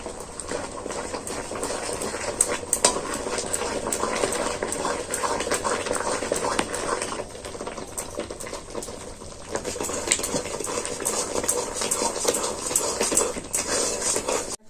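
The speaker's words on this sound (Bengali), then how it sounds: "ফুটতেও শুরু করে দিয়েছে, আর অনেকটা কিন্তু গাঢ় হয়ে গেছে।" Milk with almonds is boiling down to a thick mass in a pan, a constant bubbling hiss broken by frequent scraping clicks as it is stirred steadily.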